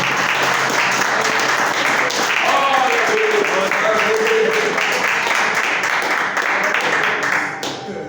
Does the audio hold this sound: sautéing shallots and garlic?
no